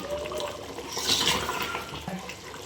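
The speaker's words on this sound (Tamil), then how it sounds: "நல்லா கொதிச்சிட்டு இருக்கு" Mutton curry boils in a pot, a steady close bubbling and gurgling of liquid with soft wet pops throughout.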